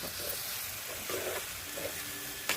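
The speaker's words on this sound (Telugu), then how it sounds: "ఉప్పు పసుపు వేసి ఉడకబెట్టిన క్యాబేజీ పెసరపప్పు అది వేసేసి వేయిస్తుంది" Boiled cabbage and moong dal, seasoned with salt and turmeric, frying in a pan over a wood-fired stove; a steady soft sizzle with faint stirring scrapes, fairly quiet and continuous.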